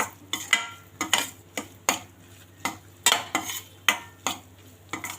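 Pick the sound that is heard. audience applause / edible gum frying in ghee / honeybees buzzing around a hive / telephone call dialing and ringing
edible gum frying in ghee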